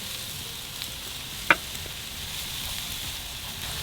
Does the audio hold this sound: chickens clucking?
no